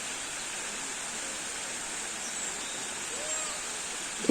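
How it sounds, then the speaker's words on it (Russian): Water cascade in a German park, running down from a hilltop toward a palace, gives a steady, broad rushing roar close by, continuous and even with no breaks. "каскад, водный поток начинается с вершины 500-метровой горы"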